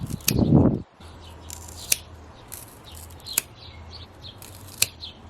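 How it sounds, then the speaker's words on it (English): Scissors snipping plant stems into single-node cuttings, a few sharp isolated clicks spread several seconds apart after an opening rustle of handling the plant, close and fairly quiet. "And then I will just cut these into, I think probably just single node cuttings."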